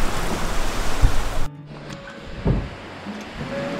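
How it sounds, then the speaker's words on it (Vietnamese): Ocean surf washes onto Paradise Beach in El Nido, a steady loud roar of waves with wind noise, cutting partway through to a quieter wash with another soft breaking surge. "Linh, chị Giang, thấy biển đẹp không? Đẹp. Đây là Paradise Beach"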